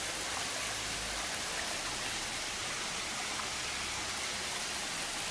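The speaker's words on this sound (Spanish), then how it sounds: "Y el río aquí." A river running past a grassy mountain village near a bridge, giving a steady, close broadband rush of flowing water with no voices.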